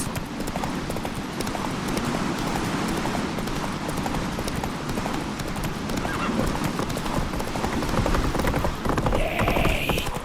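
Roach the horse gallops in The Witcher 3, a steady loud clip-clop of hooves over continuous ground rumble, with a brief whinny near the end and no talk.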